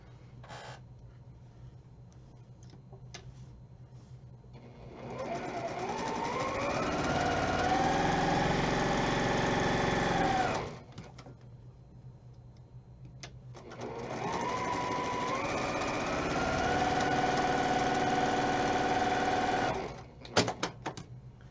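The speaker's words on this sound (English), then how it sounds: "we're going to sew a 1/4 inch on either side of that line" A sewing machine stitches quilt fabric a quarter inch beside a marked line, running in two long steady bursts that rise in speed and hold a close, even whir before stopping, with a quiet pause between.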